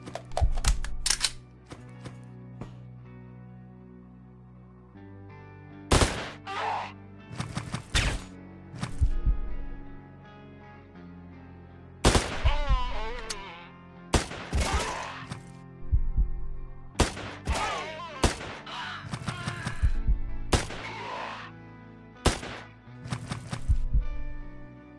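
A futuristic AK rifle firing in Escape from Tarkov, a run of loud, sharp bursts and single shots spread across the scene, mixed with thumps, clicks and synthetic game effects.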